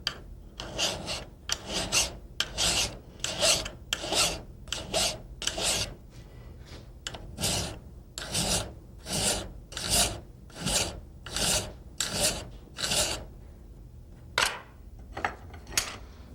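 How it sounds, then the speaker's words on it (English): A coarse pillar file rasps across the flats of a steel pistol slide apron during gunsmithing work, in repeated rhythmic strokes, each a crisp scraping burst with short pauses between, close and clear without talk. "It's a little coarser pillar file, and we're going to work these flats on both sides of the slide apron."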